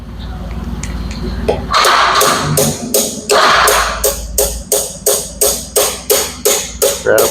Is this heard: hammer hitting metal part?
yes